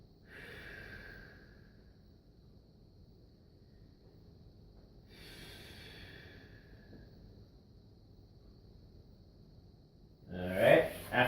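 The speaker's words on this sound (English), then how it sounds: "And 10 breaths." Slow, deep breathing during a static stretch, two long airy breaths several seconds apart, close and fairly quiet, followed by a brief louder sound at the end.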